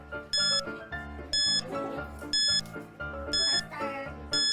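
A timer beeps during a mukbang eating challenge, sounding as four evenly spaced bursts of rapid high electronic beeps, roughly one per second, over quieter background music.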